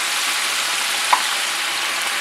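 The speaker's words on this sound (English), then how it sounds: "I probably should fry 3 thighs at a time," Steady, loud crackling sizzle of chicken thighs frying in hot oil in a pot, with one brief pop partway through.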